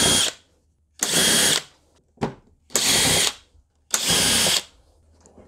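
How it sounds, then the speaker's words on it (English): Cordless power drill loosening bolts on a Mercedes W220 S-Class E 320 V6 air intake housing, four loud close bursts of whirring, each about half a second long, separated by short silent gaps. "I'll use my power tool."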